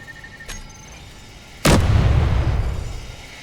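An assault cannon in the Space Engineers video game fires a single loud, heavy blast that booms, then rolls away into a long low rumble, with a fainter pop just before it.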